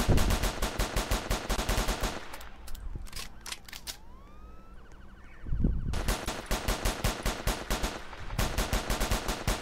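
Automatic weapon fire in the Roblox game ERLC, long rapid bursts of loud close shots with a quieter pause in the middle, where a few single clicks and mechanical sounds are heard before the firing resumes.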